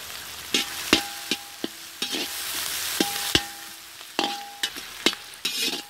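Crushed garlic and onions sauté in a pan for a whole bitter gourd fry, with a bright sizzle broken by repeated sharp metallic clinks and scrapes of a spoon stirring against the vessel, close up and with no talk.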